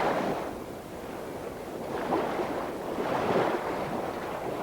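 Ocean surf rolling onto a beach, with broad washing roars that swell and recede in slow surges amid steady wind noise, continuous and fairly loud without voices.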